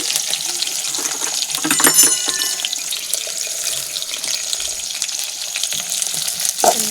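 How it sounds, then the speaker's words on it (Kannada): Onion and green chillies fry in oil in a pan, giving a dense, close hiss and bubbling crackle that holds steady throughout with a few sharper spits. "ಇವಾಗ ಎಣ್ಣೆಯಲ್ಲಿ ಫ್ರೈ ಮಾಡ್ಕೊಳ್ಳೋಣ"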